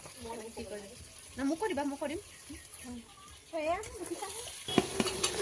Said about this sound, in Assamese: এতিয়া বৌয়ে চিকেনখিনি দি দিলে। পিঁয়াজখিনি অকণমান ৰঙচুৱা হোৱাৰ পিছত সেয়া লৰাই আছে।